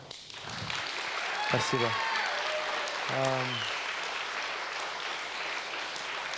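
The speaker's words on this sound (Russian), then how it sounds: "Аплодисменты." Sustained audience applause at a live television concert in Baku rolls on evenly throughout, while someone speaks briefly over the clapping near the start and again midway.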